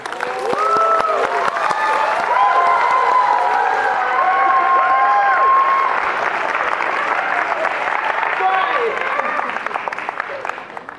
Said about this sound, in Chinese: 谢谢您各位的掌声鼓励